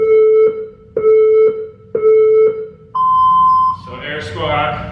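A workout interval timer sounds three evenly spaced mid-pitched beeps, then one longer, higher tone marking the start, followed by a voice talking.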